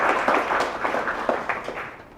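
A live audience applauds to welcome a speaker at a talk, producing a continuous, moderately loud wash of many hands clapping that fades slightly toward the end, with no voices heard.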